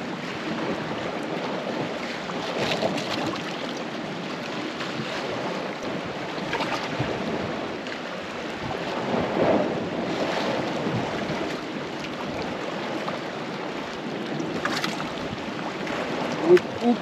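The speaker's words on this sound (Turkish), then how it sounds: "Sanki dalganın sesini duyuyor gibiyim." Gentle sea waves wash and swell in slow surges, a continuous watery rush with soft wind, fairly distant and even.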